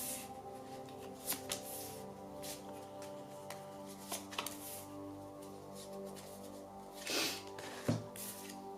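Tarot cards shuffled and drawn at close range, with a series of soft riffling flicks and slaps at an uneven rhythm, plus a louder burst of shuffling near the end.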